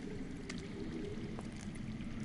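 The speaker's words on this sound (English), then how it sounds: "That's water. I hear water. From underground." Underground flowing water in a Game of Thrones video game, a steady low rushing and pouring wash that runs continuously at moderate level with a few faint clicks on top.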